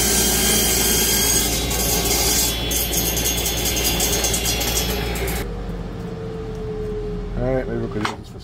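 A saw cross-cutting plywood runs as a loud, steady, close roar for about five seconds, then cuts off, leaving a quieter tail with a short rattle near the end.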